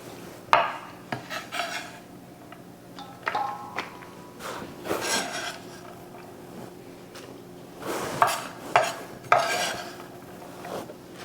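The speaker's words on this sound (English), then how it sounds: "we're going to start to put our onions and our garlic in" Onions and garlic go into a pan, heard as a run of utensil scrapes, clatters and metallic knocks in irregular bursts, close by, with quieter gaps of soft rustling between them.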